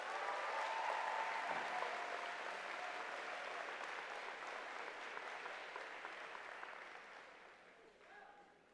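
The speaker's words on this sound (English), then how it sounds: "Give them a round of applause." A graduation audience at Middletown High School applauds the class of 2023 with sustained, dense clapping that fills the hall, then slowly fades toward the end.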